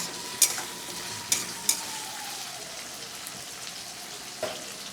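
Soft steady sizzle of potatoes frying in a pan, punctuated by a few sharp clinks of a utensil stirring, with no talking.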